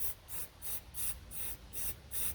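Spray paint hisses in short repeated bursts onto a resin tumbler, each puff bright and airy with brief gaps between, close and fairly quiet with no talking.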